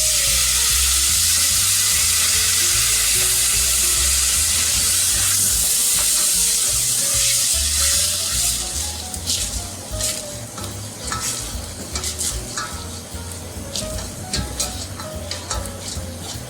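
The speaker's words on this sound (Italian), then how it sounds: "Facciamo tostare il riso. Lo sfumiamo con un po' di vino bianco." Rice for an asparagus risotto toasting in a pan, sizzling and bubbling steadily as white wine is poured in, with frequent stirring scrapes; loud and close, no talking.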